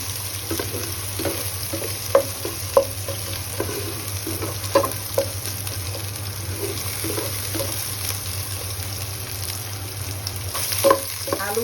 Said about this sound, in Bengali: তখন আলুটা একটু ভাজা ভাজা হবে